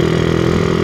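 Idling motorcycle fitted with a Tsukigi aftermarket exhaust, a steady close engine drone with a low, even pulse throughout.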